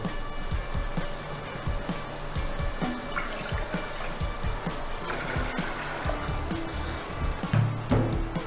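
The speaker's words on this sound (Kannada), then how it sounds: "ಈ ಪಾತ್ರೆಗೆ ಇದರಲ್ಲಿ 2 ಕಪ್ ನೀರು ಹಾಕ್ಕೊಳ್ಳೋಣ." Two cups of water poured into a small kitchen pan while making sooji halva, a steady splashing, trickling pour running continuously at close range.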